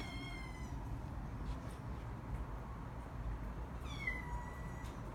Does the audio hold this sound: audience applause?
no